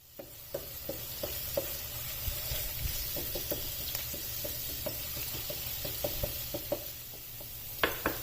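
Garlic and ginger paste with cumin sizzles steadily in hot oil for a mutton jalfrezi, with a spoon scraping and stirring the pan in scattered clicks and taps, close and clear with no talk.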